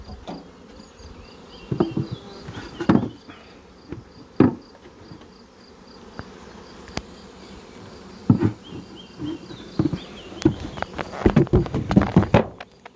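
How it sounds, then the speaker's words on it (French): Honeybees buzzing around a hive during handling with new wax foundation, a persistent hum with louder buzzes as bees fly close past, plus occasional knocks and clunks of the hive lid and frames being set down. "on a toujours quelques abeilles qui reviennent"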